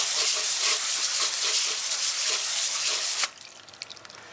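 Water sprays from a hose nozzle on shower setting onto a car body panel coated with Permanon Platinum, a loud steady hissing wash that cuts off abruptly near the end, leaving faint drips and patter.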